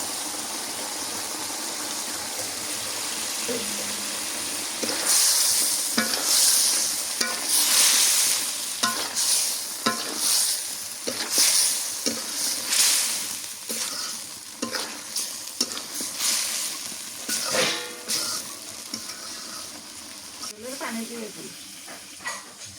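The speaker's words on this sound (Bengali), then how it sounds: "তেলে ভাজা পটল দিয়ে দিই" Pieces of pointed gourd sizzle and hiss in hot oil while a spatula scrapes and clatters against the pan in irregular stirring strokes, close by.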